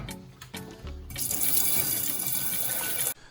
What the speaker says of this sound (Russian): Теперь мы их с тобой обмоем в горячей воде и посмотрим,